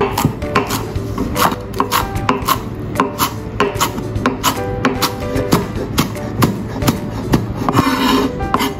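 A knife chops chili and coriander on a cutting board for a Thai shrimp vermicelli salad, a fast, steady run of sharp, close knocks at an even rhythm with no talk.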